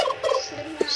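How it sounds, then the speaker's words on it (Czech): Turkeys roaming outdoors at a small zoo give a brief, close gobble, a short burst of rapid throaty calls with some light background noise. "A ty krocani tady běhají nějak venku."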